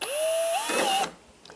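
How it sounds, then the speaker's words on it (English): A Forstner drill bit bores into wood, the drill motor whining up in pitch and holding steady for about a second before spinning down and stopping, close and fairly loud. "I've marked the drill bit to the depth I want to drill it at. This is the Forstner bit."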